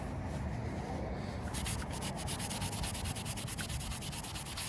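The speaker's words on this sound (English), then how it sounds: "Everything's got to have a nice scuff to it." Painted trim is scuffed by hand with an abrasive before repainting, giving a fast, close, continuous rasping rub with quick back-and-forth strokes throughout.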